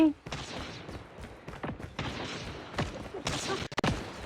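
Rapid bursts of video game gunfire crackle in quick volleys, loud and close, with sharp shots clustering toward the end.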